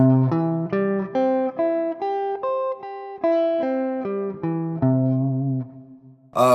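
Single guitar notes ring out one after another in a slow rolling arpeggio as the first finger rolls across a barre, clear and close, with a brief strummed chord at the end.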